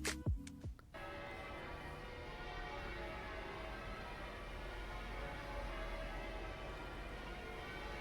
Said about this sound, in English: And then more church bells